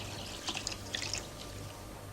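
Water poured from a jug into a water clock, a soft, faint trickle and splash with light bubbling in the middle, alone at low level.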